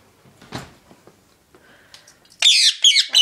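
Pet birds squawk indoors, with faint rustles and small knocks at first, then loud, sharp, close squawks in two quick bursts near the end.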